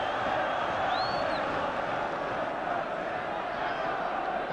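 A big crowd at a 1977-78 Sunderland versus Spurs football match roars steadily throughout, a dense, continuous wall of distant voices with a faint whistle-like tone rising briefly early on.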